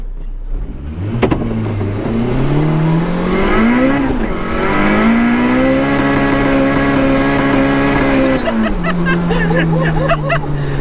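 A 370bhp VTEC turbo Mini launches with heavy wheelspin, its engine rising in a loud sustained rev that climbs, holds high and then drops as the car pulls away, close and dominant, with faint talk around it.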